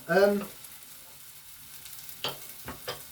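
Butter melting in a pan, a soft continuous sizzle with a brief louder scrape at the start and a few spoon or pan knocks near the end, close and fairly quiet.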